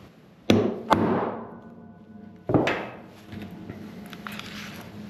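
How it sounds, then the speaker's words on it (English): A small hole cutter is struck to stamp a hole for a grommet, giving three sharp, close knocks: two quick strikes, then a third after a pause, each followed by a brief ringing decay. "Basically I'm just stamping a hole where I want to put another one of these grommets, and this little thing just cuts a hole."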